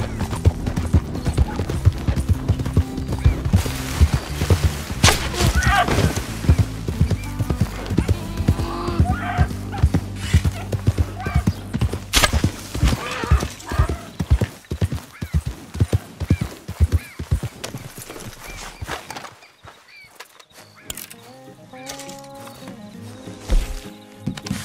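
Horse hooves pound rapidly in Red Dead Redemption 2, a dense galloping clip-clop with occasional whinnies, loud and continuous before easing into slower steps near the end.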